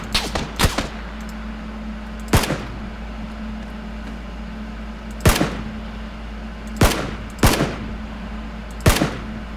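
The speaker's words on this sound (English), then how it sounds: "I'm laying covering fire for myself." Gunfire in PUBG: sharp single shots spaced irregularly, a quick pair near the start and then isolated reports every second or two, loud and close over a steady low hum.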